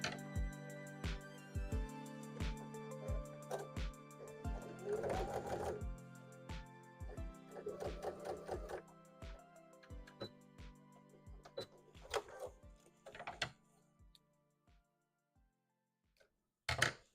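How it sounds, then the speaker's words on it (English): A sewing machine stitches smile lines on a Gengar hat in rapid, even mechanical ticking runs that start, pause and restart, with a low motor hum underneath. "Sewing the lines of the smile."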